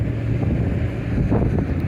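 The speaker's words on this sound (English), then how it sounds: "It's a little windy, we apologize." Heavy wind buffets the microphone in Jean, Nevada, a loud, steady low rumble that fills the whole moment with no voices heard.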